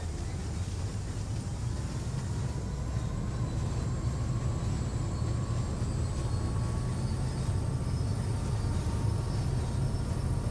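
Steady low rumble of a train engine throttling up in Train Sim World on the Great Western Express, continuous and even with a faint rising whine above, no talking.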